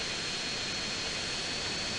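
A fighter jet's engine roars in GTA San Andreas, a steady loud broadband rumble and whine that holds constant throughout with no speech.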